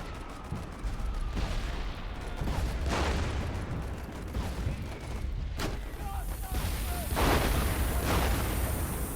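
Artillery strike in the video game Warfare Legacy: a dense, continuous barrage of booms and gunfire with repeated loud blasts throughout, heard alongside talk.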